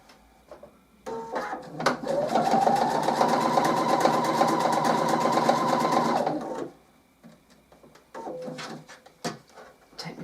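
A sewing machine stitches through layered towel fabric for washing-up sponges, running in a steady rapid whir for about five seconds, with short starts and stops and handling clicks around it, close up.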